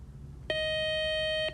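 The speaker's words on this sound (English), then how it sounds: "that buzzer means just one more toss-up round to go" A quiz show buzzer sounds once, a clean steady electronic tone lasting about a second and cutting off sharply, clear and isolated over faint room noise.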